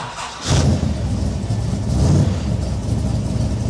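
A Shelby Cobra engine cranks and catches, then settles into a loud, rough idle close by, with no voices over it.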